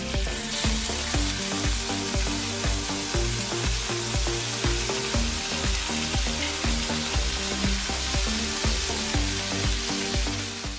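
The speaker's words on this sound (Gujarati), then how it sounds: "ગરમ થતા તેલમાં 1/4 ટીસ્પૂન રાઈ, મીઠા લીમડાના પાન, 2 તીખા લીલા મરચાંના ઝીણા સમારેલા ટુકડા, સહેજ એવી હિંગ ઉમેરી અને મિક્સ કરી દઈશું" Mustard seeds, curry leaves, chopped green chillies and a pinch of hing crackle and sizzle in hot oil for a Gujarati tempering, a dense continuous spitting with rapid pops and stirring clinks, close and steady throughout.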